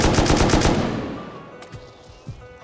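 An M2 machine gun in the Rust video game fires a loud, rapid burst of about half a dozen shots, then the echo fades, followed by a few fainter distant shots.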